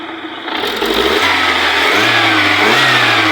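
A VAZ 2111 16-valve engine, its cylinder head rebuilt, starts from quiet and revs up, holding a strong steady drone with stepped rises in pitch as the throttle is opened.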